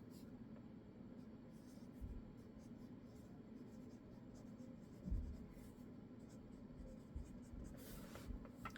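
Pencil lines being drawn on paper for a one-point perspective sketch, a soft continuous scratchy scraping with a few louder strokes, close and quiet, with no one talking.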